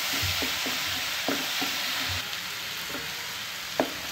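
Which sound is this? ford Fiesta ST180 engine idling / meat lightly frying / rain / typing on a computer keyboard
meat lightly frying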